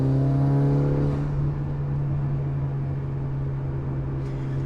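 A turbocharged Mitsubishi Lancer Evolution 8 engine hums at a steady low drone on light throttle, heard from inside the car and fading slightly after the first second, with no talk.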